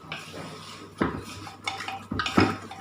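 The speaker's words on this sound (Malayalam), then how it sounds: "നല്ലോണം യോജിപ്പിക്കുക" A metal spoon stirs chicken with spices and coconut oil in a pressure cooker for a Kerala-style roast, with several sharp scraping clanks against the pot at an uneven pace, and no voices.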